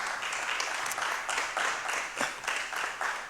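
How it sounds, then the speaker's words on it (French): Audience applause at a business forum award ceremony, a moderate, slightly uneven clapping from a smallish crowd with distinct individual claps pulsing through, continuing at an even level to the end. "avec nos applaudissements"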